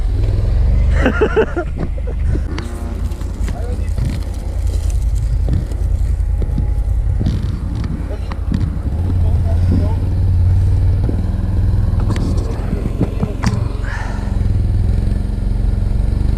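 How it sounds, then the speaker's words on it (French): Quad bike engine approaching at a motocross race in Bougneau during a veterans' quad event, a steady loud motor drone with wind buffeting the microphone and a crowd murmur, while a commentator talks over it. "Il y a un quad qui arrive normalement."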